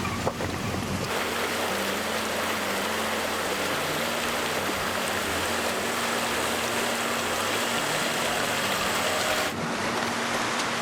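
A creek on a remote Alaska trail rushes steadily in a dense, unbroken wash of water noise, with a low engine-like drone beneath it and no voices.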